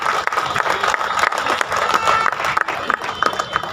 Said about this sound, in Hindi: आप एक बार इनका तालियों से अभिवादन करें।